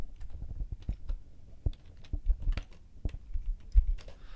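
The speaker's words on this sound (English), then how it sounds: "start typing out what you want the actual link to be" Typing on a computer keyboard while editing in WordPress, irregular crisp key clicks in quick succession, fairly close and moderately quiet, with no talking.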